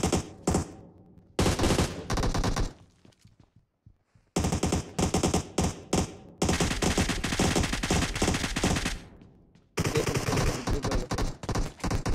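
Loud automatic gunfire in PUBG Mobile arcade mode, rapid bursts of shots in several long volleys separated by short silent gaps, close and dominant.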